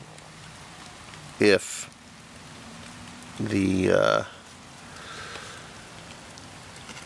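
Steady rain patters outdoors at an overnight campsite beside a fire, a soft, even wash of drops with a couple of brief sharp noises and a short stretch of talk in the middle.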